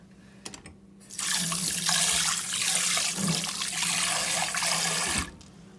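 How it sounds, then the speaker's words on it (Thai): Tap water running steadily over mullet fish milt rinsed in a sink after a salt-water soak, a continuous close splash and gush lasting several seconds before stopping. "เอาเกลือล้างทำความสะอาดที่เราแช่น้ำเกลือแล้วนะคะ เราก็จะเอามาล้างค่ะ"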